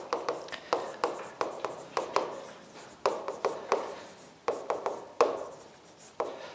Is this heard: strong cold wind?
no